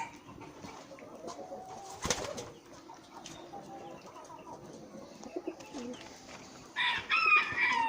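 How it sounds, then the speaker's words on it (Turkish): A chocolate-coloured breeding rooster crows in a backyard coop that also holds pigeons. Scattered clucks and wing flaps come first, then a loud crow closes the stretch. "Burada damızlık yedeklerim çikolata horozumuz var."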